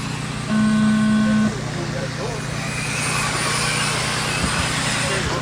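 Race cars roll out for the start of a TARCAR round at Toledo, engines holding a steady low rumble. A brief horn-like tone sounds early on, and voices carry over the broad road and engine noise.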